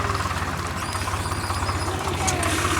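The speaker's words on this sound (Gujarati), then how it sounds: "ટ્રેક્ટર આવી ગયું" A tractor engine idling on a farm, with a steady, rhythmic low thumping that runs continuously and evenly throughout.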